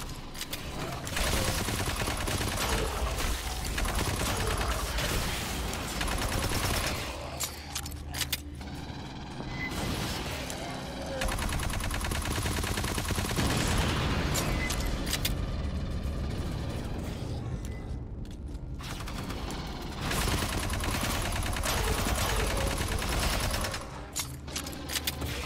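Video game gunfire during a fireteam mission against xenos and mutants, long bursts of rapid automatic shots in a dense continuous barrage, broken by brief pauses, loud and close throughout.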